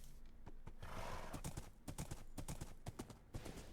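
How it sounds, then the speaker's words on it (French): Hooves clip-clop in a steady rhythm and a horse whinnies in the ECOcraft video game. The sound is fairly loud and continuous, with no talk over it. "Je vais récupérer mon cheval"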